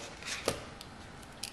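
A transparent handmade adhesive sticker label is cut, giving a couple of quiet, brief snips or cutter scrapes close by in a soft, quiet room.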